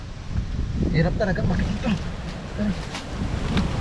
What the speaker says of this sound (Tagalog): Lakas ng hangin, lakas.